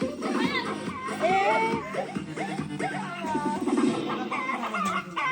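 A rooster at a backyard barbecue gathering clucks in short, close bursts mixed with lively voices and people talking nearby.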